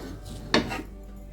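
A spatula scrapes and clatters once against a pan while vegetable fried rice is mixed in it, a brief metallic scrape with a soft rubbing sound after it, no talk.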